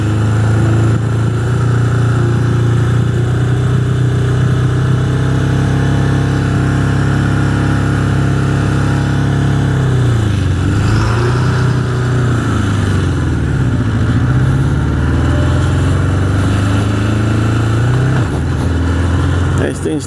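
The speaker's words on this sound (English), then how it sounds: "This thing's staying way too high revved up. Gotta adjust that idle screw." A 1981 Honda CB750 Custom motorcycle engine holds a steady, high-revving drone while riding on back roads in East Hampton, NY, dipping and recovering briefly midway, loud and close throughout.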